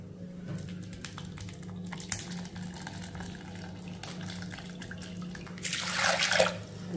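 Liquid pours through a thin white cloth set over a strainer, a steady watery rush building near the end over a low constant hum, with no talking.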